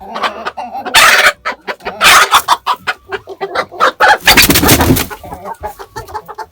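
Loud, close clucking from several hens in rapid overlapping bursts, with flurries of agitated squawking and flapping between calls.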